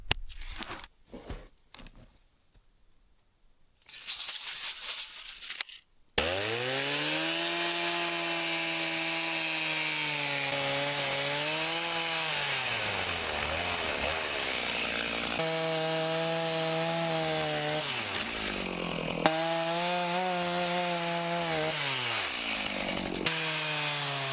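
A chainsaw bucks a felled tree into 10-foot sections, roaring loud and steady at close range, its pitch dipping and rising as the chain bites into the log, after a few brief knocks and rustles at the start.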